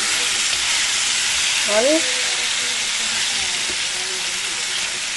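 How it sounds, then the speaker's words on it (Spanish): Chicken wings fry in a pan with a steady broadband sizzle and hiss throughout, with a brief spoken word near the middle. "No vamos a dejar que se chicharre, vamos a dejar que se haga un poquito, que se dore un poquito."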